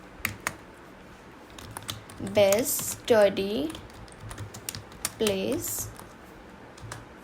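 Light, irregular clicks of typing on a computer keyboard during Photoshop design work, fairly close and soft, with a voice talking over parts of it.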